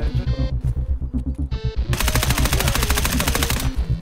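An M4 rifle fires in Escape from Tarkov PvP combat: loud, close automatic bursts of rapid, evenly spaced shots, ending in one long sustained string of fire.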